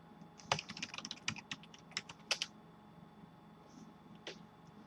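Keys on a computer keyboard click in quick irregular bursts as a password is typed, fairly quiet and close, with scattered taps trailing off toward the end.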